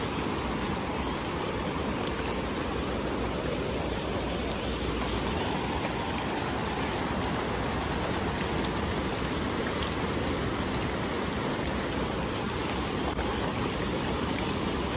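Heavy rain pours down during a flooding rainy season, a dense, even hiss of water striking surfaces that holds steady from start to finish with no voices.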